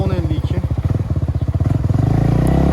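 A Kawasaki-style NK250 motorcycle engine runs loudly up close, its rapid pulsing thump quickening as it revs higher toward the end.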